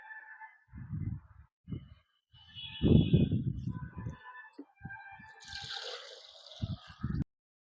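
Liquid fertilizer poured from a one-litre bottle into plant tubs, a soft trickling gurgle that comes in short bursts with a brief louder splash, while a voice talks over it.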